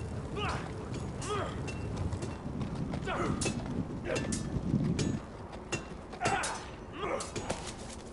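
Video-game horse hooves clip-clopping at a steady walking rhythm, with creaking tack and occasional mechanical clanks, while in-game characters talk over them.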